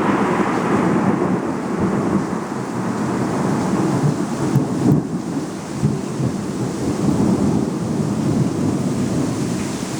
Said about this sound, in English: The thunder seems to have subsided and the storm is going away.